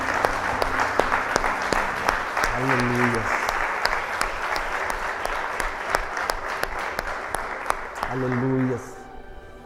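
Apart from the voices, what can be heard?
congregation applauding in church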